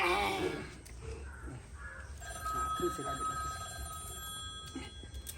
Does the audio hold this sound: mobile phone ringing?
yes